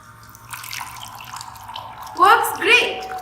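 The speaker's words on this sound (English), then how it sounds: "every time I place my mug in front of this IR sensor, I want the water to flow through this tap" Water flowing through a touch-free Arduino tap driven by a small pump motor and triggered by an IR sensor when a mug is placed in front of it, rising into two louder splashing bursts near the end.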